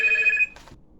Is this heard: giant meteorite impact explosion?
no